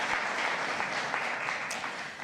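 Audience applause at a diaspora leaders' forum in Washington, a steady broadband clapping wash filling the room from start to finish, with no voices over it.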